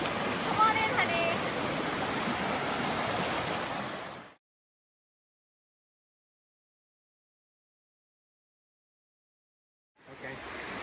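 The Rio Blanco river rushes near La Leona waterfall in Costa Rica, a steady close roar of broadband water noise that cuts out into silence midway and then returns.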